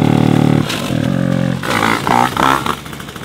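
A shifter kart engine revs hard and close, its buzzing, roaring note rising and falling in several bursts with a brief dip partway through.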